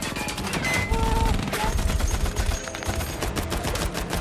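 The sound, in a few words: gunfire in a war film battle scene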